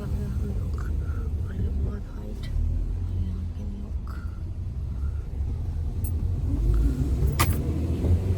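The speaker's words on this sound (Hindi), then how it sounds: "टैक्सी आ गई है" A taxi car rumbles close by as it pulls up, a low steady engine and road noise that swells toward the end, with people talking quietly over it.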